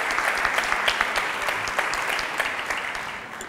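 Audience applause at the finale of a 2017 Italian talent show during a prize presentation: steady, moderately loud clapping from many people, even and continuous throughout with individual claps audible, tapering slightly at the end.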